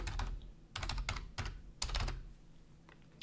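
Quick bursts of computer keyboard keystrokes clatter up close, a short word typed in clustered clicks with brief pauses between groups.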